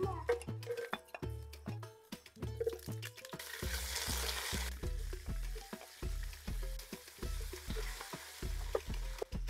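Spices tempering in hot oil for fish biryani, sizzling steadily while a utensil stirs and clinks against the pan in a regular rhythm, with a louder burst of frying partway through.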